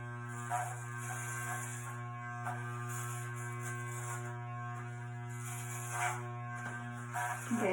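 Electric hair clippers run steadily against a scalp as a head is shaved over a sink, a close, continuous buzzing hum with brief scraping swells as the blade passes through hair.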